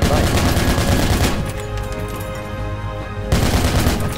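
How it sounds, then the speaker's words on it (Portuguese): Enemy gunfire in the tactical military shooter Project Reality 1.4, loud sustained automatic bursts close by, easing briefly before another heavy volley resumes. "Ouvi disparo inimigo."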